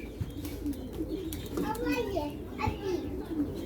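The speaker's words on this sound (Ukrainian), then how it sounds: "Тут багато голубів дуже." Purebred pigeons coo in a busy, noisy space while children chatter and play nearby, the bird calls partly buried under voices.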